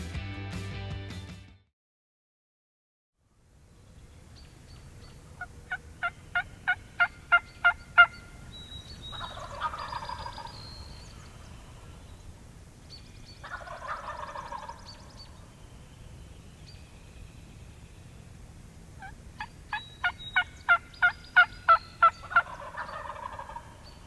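A wild turkey gobbles in loud, rapid bursts during a Michigan turkey hunt, three separate rounds spread across the stretch, over a steady low outdoor rumble with a quiet pause near the start.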